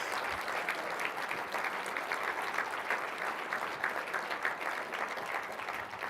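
Sustained applause from a crowd at a live charity breakfast event at a resort, dense and steady clapping that continues for several seconds without a break.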